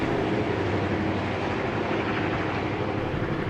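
A train rumbles past at close range, a loud continuous roar of engine and wheels on rails with steady rolling clatter throughout.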